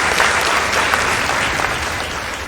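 Audience applause at a school debate between two secondary schools fills the hall, a dense, steady clapping from a large crowd that holds strong throughout and tapers slightly near the end.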